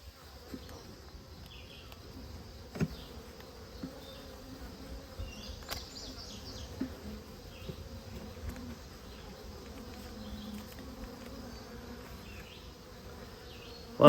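Honey bees buzz around rescued hives in a steady, faint drone, with a few soft knocks and clicks scattered through it.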